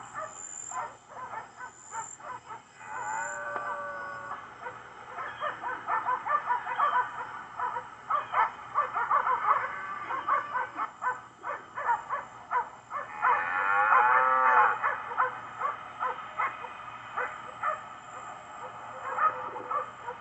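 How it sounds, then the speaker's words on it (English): Cow dogs bay repeatedly while holding a herd of cattle, with broken barks and yelps coming in irregular bursts at mid distance over faint outdoor background noise. "Notice the movements of the dogs and the cattle and listen to the baying of the dogs."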